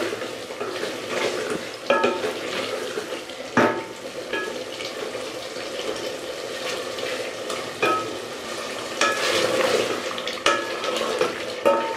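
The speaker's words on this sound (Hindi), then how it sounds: "इसकी बहुत अच्छे से बुनाई हो रही है, पानी हमने नहीं लगाया।" Pumpkin curry is sautéed with no added water until the pumpkin breaks down. Close, steady sizzling runs throughout, punctuated every few seconds by sharp scrapes and clacks of a spoon stirring against the pot.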